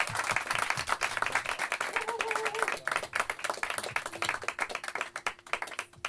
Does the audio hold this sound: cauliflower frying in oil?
no